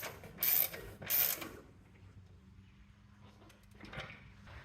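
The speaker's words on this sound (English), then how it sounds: "I'll tighten these bolts that go into the welded nut on the bracket on the bumper" A ratchet tightens bolts into welded nuts on a rear bumper bracket of a 1994 Chevy K1500, giving two quick bursts of close clicking followed by quieter shuffling and a faint later rattle.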